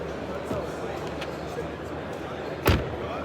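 A car door on a 2023 Kia EV6 GT is shut with a single solid thud near the end, after a fainter knock earlier, under a steady background hum.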